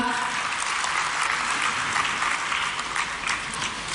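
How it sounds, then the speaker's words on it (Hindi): Audience applause welcoming an honoree at a Bhopal ceremony honouring selected UPSC candidates, a steady even wash of many hands clapping, moderately distant and without talk. "तालियों से स्वागत करें"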